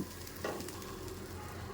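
Rice with a little turmeric fries in a pan, giving a soft, steady sizzle with a brief scrape of stirring near the start and no speech.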